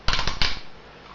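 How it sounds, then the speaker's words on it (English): Plastic parts of a TFC P-004 Ironshell transformer toy click out of place in a quick burst of three or four sharp snaps, close and clear, then stop. "So these bits all click out, click out,"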